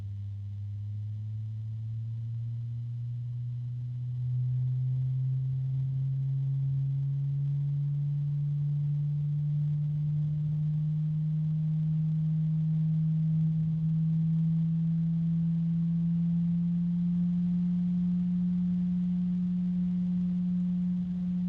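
A steady fluid dynamic bearing fan hum with a smooth, higher tone that slowly rises in pitch as it spins up, then holds constant and fairly loud.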